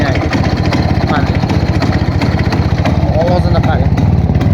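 A motorcycle engine, offered for sale in Fergana, runs steadily at idle up close, with a dense, rapid low chugging throughout and a voice faintly underneath.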